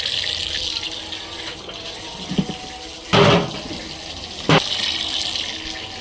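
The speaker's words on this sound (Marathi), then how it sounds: "नळाला पाणी आलंय मी आपली पाणी भरते" Tap water runs steadily into containers being filled at home, with a couple of short clunks and splashes as the vessels shift.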